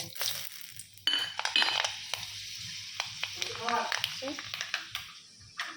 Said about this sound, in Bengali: এটা মেথি, তেজপাতা, তেল গরম হয়ে গেছে, ফোড়ন দেব।